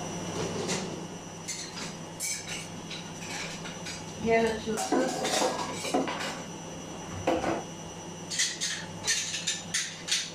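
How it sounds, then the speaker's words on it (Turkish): Dishes and cutlery clink and clatter in bursts as items are set into a dishwasher rack, with a person speaking briefly in Turkish in between. "Ben şimdi bulaşıkları yerleştireyim arkadaşlar makinede"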